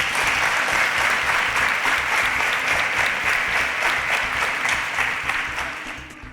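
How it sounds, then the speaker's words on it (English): A studio audience applauds a contestant moving through to the advanced level of a Nigerian competition show, a loud, full burst of clapping that holds steady for several seconds before easing off at the end. "A round of applause for Wisdom."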